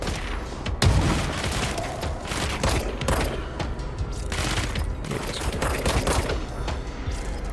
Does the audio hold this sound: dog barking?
no